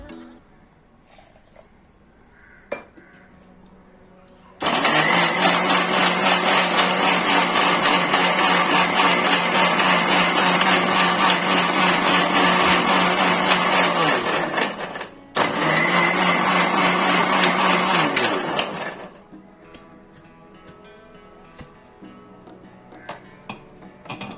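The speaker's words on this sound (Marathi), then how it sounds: "मिक्सर मधून आपण हे वाटून घेऊया" Watermelon rind and water churn in a mixer grinder with a loud, steady whirring drone for about ten seconds. After a momentary pause it runs for a few more seconds, with quiet room sound before and after.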